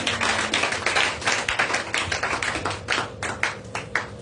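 A church congregation claps during a Sunday praise and worship service, with loud, dense, fast rhythmic clapping that continues steadily throughout, with no voices standing out.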